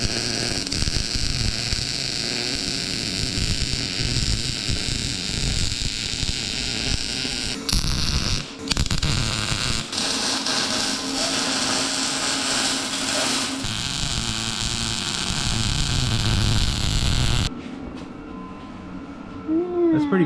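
Metal for a Toyota 4Runner roof rack is being welded, a steady loud crackling, hissing buzz that runs continuously with a brief break near the middle and stops toward the end, with voices talking over it.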